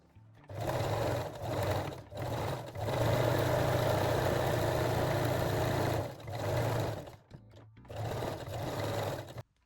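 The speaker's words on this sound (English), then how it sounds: "Fold your elastic and sew it again." A sewing machine stitches folded elastic onto a lingerie bralette, running in several long close bursts with brief pauses between, a steady buzzing whir throughout.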